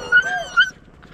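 A dog gives a brief high whine or yip, two quick rising cries within about a second, close by and then fading into quiet.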